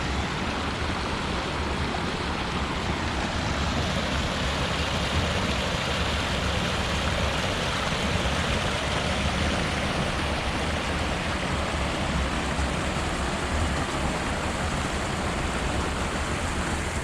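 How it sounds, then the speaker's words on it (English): Steady, dense rush of water where a lake overflows into a small creek in a state park, a continuous broadband wash held at an even level throughout with no talking. "There's a lot of little streams and creeks that flow through this area."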